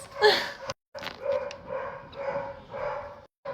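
Several dogs bark in repeated, fairly loud bursts close by, with short pauses between volleys and no talking over them.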